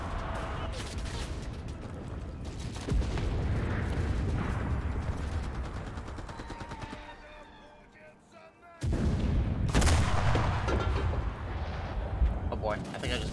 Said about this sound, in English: Building out a tank gun, see if I can't take out these enemy tanks.